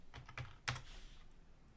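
Numbers are typed on a computer keyboard and enter is pressed: a few quick, light key taps followed by a sharper keystroke, close and fairly quiet, with no talking.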